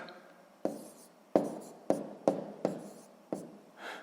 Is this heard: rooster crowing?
no